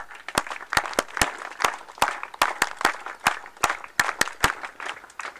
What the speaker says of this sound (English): I request all of you to please join me to clap and convey our heartfelt gratitude